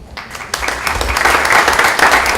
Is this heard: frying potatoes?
no